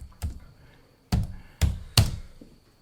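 Laptop keyboard tapped with four distinct, fairly loud knocks spaced unevenly, each a sharp thump close to the microphone with a short decay, no talking.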